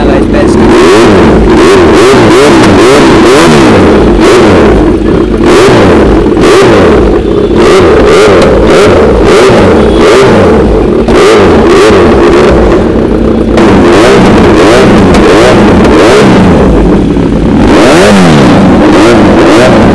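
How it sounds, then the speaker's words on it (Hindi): Superbike fitted with an Austin Racing aftermarket exhaust, revving hard and loud up close in repeated rising and falling blips over a throbbing idle. "अब लगा दिया इसमें दूसरा एग्जॉस्ट, ऑस्टिन रेसिंग का है, इसकी आवाज सुनना गाइस बेस्ट।"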